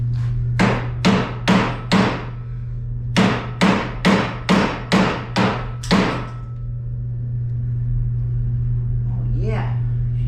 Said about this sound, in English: That way when you smack it, you don't mess up any of your threads.